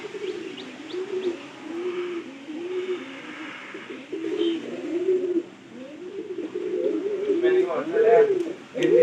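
Pigeons inside a netted enclosure coo in repeated soft, rounded phrases, fairly close, with a few faint chirps and a little background rustle.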